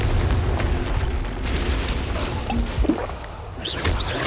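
In the Hogwarts Legacy video game, a Confringo blasting spell explodes in a busy fight, with a dull boom amid crackling, rushing noise and scattered impacts.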